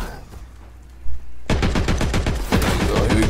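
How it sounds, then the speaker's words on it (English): Video game machine gun fire: after a quiet start and a single thump, a rapid, loud rattling burst of automatic shots runs steadily to the end. "That machine gun will take you out."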